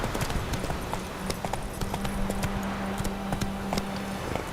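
The Witcher 3's horse Roach gallops at a steady rapid rhythm, hooves beating close and clear over a low tonal hum, with no talk.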